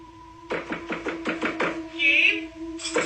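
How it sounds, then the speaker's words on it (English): Seven or eight sharp knocks on a door in a steady, evenly spaced run, close and fairly loud over a faint hum, followed by a short rising tone and one more burst near the end. "somebody started knocking on his door saying it was his mother"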